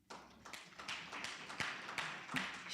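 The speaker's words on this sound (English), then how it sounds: "A round of applause for her, please." Scattered audience applause at a research and innovation awards forum: a modest, somewhat distant patter of individual hand claps that builds slightly, with no talk over it.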